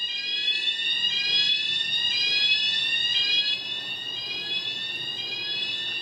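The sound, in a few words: building alarm ringing in the video game Tokyo Dark Remembrance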